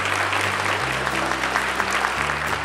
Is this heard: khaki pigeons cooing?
no